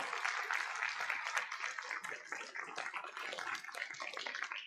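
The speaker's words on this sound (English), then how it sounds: "Let's give them a round of applause." Faint, steady applause from an audience honoring a Project Search class of 2023 at a school district's State of Our Schools event, sustained as a dense, even patter for the full few seconds.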